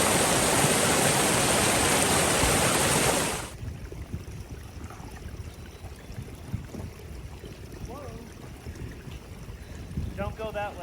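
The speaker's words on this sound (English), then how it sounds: "I think this is Strawberry Creek" Strawberry Creek rushes in a loud, steady wash of flowing water for the first few seconds, then drops away to a much quieter outdoor background with faint scattered sounds.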